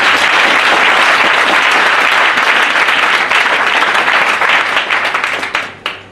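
A church congregation at a consecration service bursts into dense, loud applause that holds steady and then thins out into scattered claps near the end.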